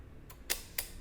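A Mamiya RB67 medium-format camera releases its mirror with two sharp mechanical clacks about a quarter second apart, close and crisp against a quiet room.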